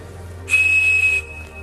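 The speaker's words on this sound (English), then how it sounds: "The Captain Crunch whistle." A Captain Crunch toy whistle, with one hole glued over, is blown at 2600 Hz as a single steady pure tone for about two thirds of a second, loud and close over a faint low hum, with no speech.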